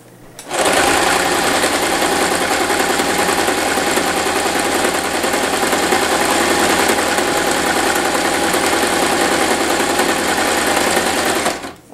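A sewing machine runs steadily for about eleven seconds, stitching fabric edges together with a double stitch, its loud, even mechanical whir close by and uninterrupted until it stops.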